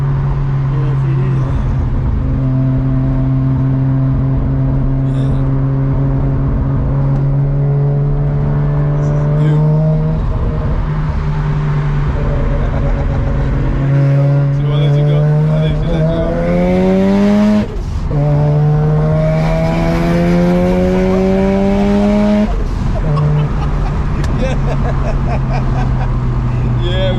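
A Mazda RX-7 rotary engine revs repeatedly, climbing and dropping in pitch, with blow-off valve whooshes between pulls and someone talking over it.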